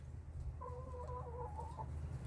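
A backyard chicken gives a short, drawn-out clucking call close by, heard once over a low steady background hum.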